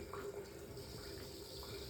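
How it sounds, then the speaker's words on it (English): A faucet running water for a straight-razor shave, steady and faint, a soft continuous stream with no talking. "Just want to add some water."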